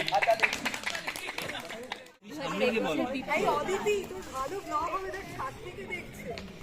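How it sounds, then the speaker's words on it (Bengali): A college picnic crowd at a prize giving in a garden claps and chatters, scattered applause mixed with overlapping voices and a brief drop before the noise swells again. "হাততালি।"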